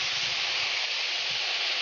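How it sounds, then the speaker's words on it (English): Steady, broad hiss of steam rising from a hot griddle, continuous and fairly loud for the whole stretch with no talking. "And we'll get a little steam going."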